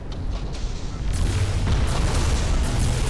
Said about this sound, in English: Turret destroyed, turret destroyed.